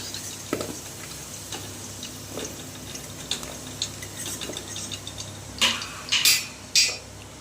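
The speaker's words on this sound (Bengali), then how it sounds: "আলুগুলোকে আমি তেলের থেকে তুলে নেব।" Fried potatoes lifted out of hot oil, with sharp metal clinks and taps of a utensil against the pan over a faint background sizzle, the strikes growing louder and clustered toward the end.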